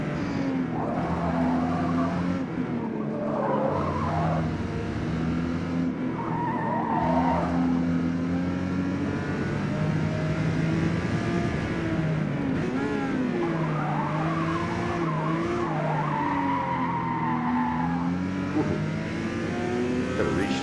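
Ferrari 512TR drifting in Forza Motorsport, engine droning steadily with revs rising and falling while tires squeal in repeated bursts, loud and close throughout.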